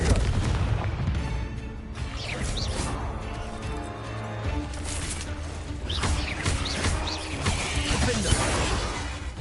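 Confringo fire spells blasting in Hogwarts Legacy, loud and repeated with booming impacts and crashing debris over a dense combat din, with no voices.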